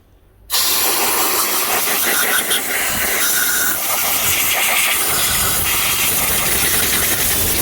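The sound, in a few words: air compressor blowing out a DeWalt miter saw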